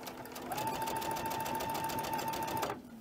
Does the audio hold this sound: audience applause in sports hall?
no